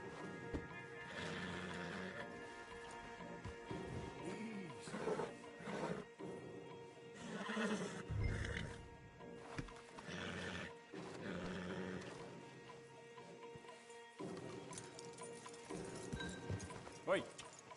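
Horses in the Red Dead Redemption 2 video game snort and whinny while hooves clop intermittently, over a bed of game music, with voices speaking at points.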